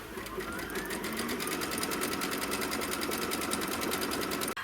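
Embroidery machine stitching a placement template for a quilt block, a steady rapid stitching patter close by, running continuously and quietly throughout.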